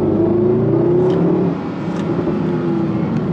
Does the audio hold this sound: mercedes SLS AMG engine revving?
yes